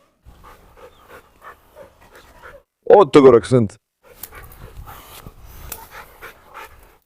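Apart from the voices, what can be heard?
dog panting, Cane Corso and Rottweiler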